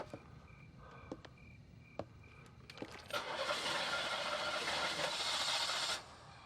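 A car engine cranks and fails to start: several clicks and short ticks, then a few seconds of steady whirring starter hiss that stops abruptly, close and fairly quiet.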